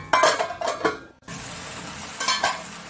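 Chicken being stirred in a hot pan for chicken chukka, with loud metallic scraping and clinking of a utensil against the pan over a steady sizzle, heard close up in bursts and no talking.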